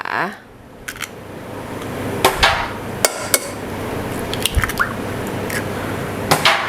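Sharp taps and cracks of eggs breaking against a bowl, a few scattered knocks over a soft background hiss.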